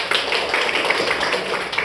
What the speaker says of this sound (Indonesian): Tepuk pagi, tepuk siang, tepuk malam.